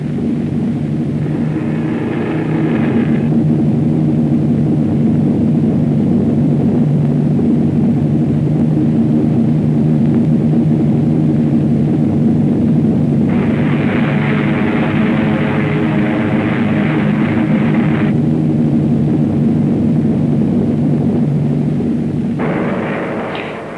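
American bomber and fighter formations flying 20,000 feet above the French coast, a loud, continuous roar of massed piston aircraft engines with droning tones that swell and fade throughout.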